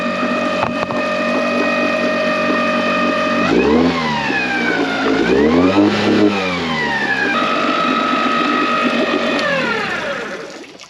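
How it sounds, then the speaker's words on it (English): A small Tohatsu outboard motor being revved several times after an impeller replacement, its engine whine climbing and falling in pitch through repeated throttle bursts, loud and close, then dropping toward idle. "Let's rev it up a few times, see if it gets any better."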